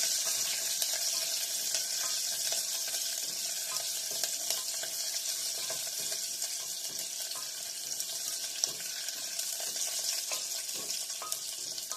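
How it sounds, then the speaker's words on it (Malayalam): Ginger and green chillies stirred in a frying pan for a Kerala-style veg kurma: a steady, moderately loud sizzle with faint scraping and stirring sounds throughout, no speech. "ജിഞ്ചറും പിന്നെ പച്ചമുളക്. എന്നിട്ട് ഒന്ന് ഇളക്കി കൊടുക്കുവാണ്."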